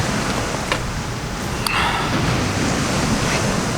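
Ocean waves wash onto a beach on an early morning walk, a constant loud surf roar with wind buffeting the microphone and a couple of faint clicks.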